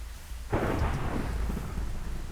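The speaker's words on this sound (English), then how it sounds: "we've got an actual thunderstorm" A sudden burst of thunder and heavy rain in a Minecraft thunderstorm, a loud rumbling roar that rises after a moment of quiet and keeps washing on steadily with no voices.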